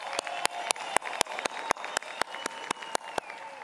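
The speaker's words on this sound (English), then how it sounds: "Let's give our President a big round of applause." A crowd at a state-of-the-province address applauds steadily, with sharp, loud claps standing out at a regular rhythm over the dense clapping throughout.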